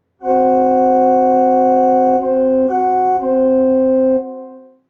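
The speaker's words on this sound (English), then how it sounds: "It's called a tritone, a combination of 3 adjacent whole tones" A sustained organ-like tritone of two clashing notes, held for about four seconds with a brief shift partway through, loud and alone.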